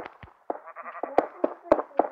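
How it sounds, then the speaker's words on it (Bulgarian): Sheep bleating in a video game, a series of short sharp bleats in quick succession, close and clear with little else around them. "Ако пак някаква черна овца ми е влязала."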